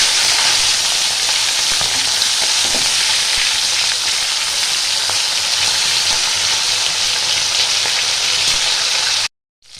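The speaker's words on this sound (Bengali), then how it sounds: "মাছটা ভালো করে আমি ভেজে নেবো" Fish fries in a pan with a loud, steady sizzle and crackle throughout, a few light scrapes under it, then cuts off abruptly near the end.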